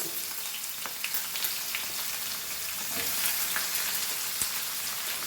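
Curry leaves and onions sizzle steadily in a hot pan for a Goan taro vegetable dish, a continuous close crackling fry with scattered sharp pops and no voices.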